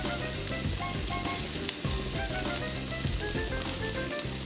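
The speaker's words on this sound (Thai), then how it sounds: "น้ำมันฮ้อน ๆ" Food frying in hot oil in a rural Isan-style kitchen, a dense continuous crackling sizzle close up, with no voices.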